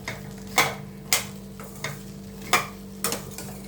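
Cut okra (bendekai) pieces being stirred and fried in oil in a pan, with several sharp scraping stirs spaced about half a second apart over a low steady sizzle, close and fairly quiet, no voices.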